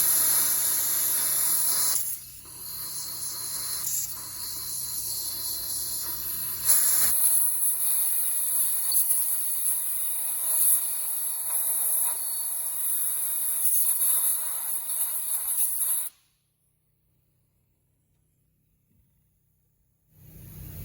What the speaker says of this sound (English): blow it out with compressed air